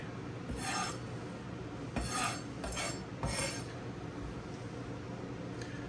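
Peppercorns being crushed on a rimmed cutting board for a steak coating, heard as a few short gritty rasping crunches spaced about a second apart, close and fairly quiet.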